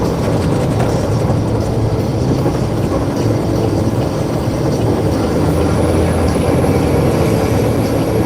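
A truck engine downshifting on a drive: a loud, steady low rumble and drone up close that fills the whole stretch, with road noise and no voices.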